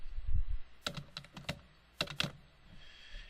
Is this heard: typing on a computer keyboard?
yes